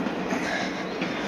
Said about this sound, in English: It's the train again.